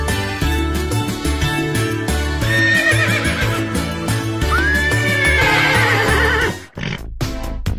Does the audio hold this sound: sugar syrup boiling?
no